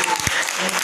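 An audience at a talk on Jyotirao Phule and Dr. Ambedkar breaks into dense, loud applause, a continuous rush of clapping with a voice briefly audible underneath.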